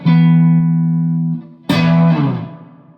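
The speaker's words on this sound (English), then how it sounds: "as I'm hitting it harder, the reverb's responding as well" An electric Telecaster guitar picked harder through reverb: a sustained low chord ringing and decaying, then a sharper, brighter attack whose reverb swells and trails off, loud and close with no talking.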